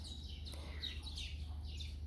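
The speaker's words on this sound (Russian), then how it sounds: "И тут очень много птиц." Birds chirping on a morning at an eco-lodge on Maio Island, Cape Verde: several thin, high tweets and trills repeat over a steady low hum, moderately close but fairly quiet.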